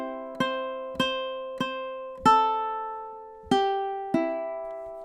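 Ukulele playing measure 4 of a song, six bright strummed chords through all four strings with the thumb, each ringing out and decaying before the next, close and clear with no voices.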